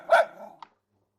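In the video game Ever17, the dog PB gives one loud, close bark, then a short, fainter yip a moment later, with nothing else heard.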